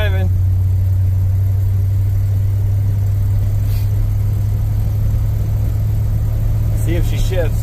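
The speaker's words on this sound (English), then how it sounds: "we'll see how that goes. Hopefully transmission shifts. Wish me luck. Okay, we're driving." Ramp truck engine running steadily as the vehicle drives off, a constant low drone with a faint rise near the end; a person speaks briefly over it.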